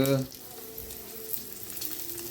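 Sukuti, dried meat, frying in a pan, with a soft steady sizzle and crackle running throughout, a brief louder burst at the very start, then a quiet even hiss.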